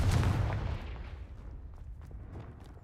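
Confringo and Accio spells are cast in the video game Hogwarts Legacy, opening with a loud, booming blast that fades into a long rumbling tail over a few seconds.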